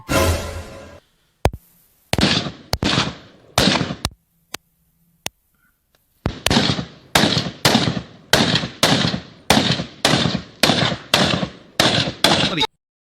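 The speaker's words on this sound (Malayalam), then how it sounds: "जब आपको बर्स्ट फायरिंग का आवाज आता है तो आदमी स्टन हो जाता है" AK-47 gunfire: a few scattered single shots, then a rapid burst of evenly spaced sharp cracks with short decaying tails, loud and close, no voices.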